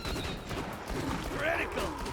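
Automated turret fire in Borderlands 2, a dense run of game gunshots layered with other combat effects over the whole stretch, with a voice murmuring faintly underneath.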